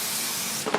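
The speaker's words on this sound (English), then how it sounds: "We're going to start by priming the perimeter with our multi-purpose spray adhesive." Multi-purpose spray adhesive hisses in one steady, loud burst from an aerosol can as a bathroom floor is primed before laying sheet vinyl.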